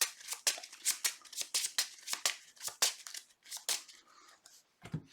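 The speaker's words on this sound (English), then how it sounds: "and then shuffle this" A deck of playing cards for a tabletop card game is shuffled by hand, giving a quick series of crisp, papery riffling bursts up close that thin out toward the end.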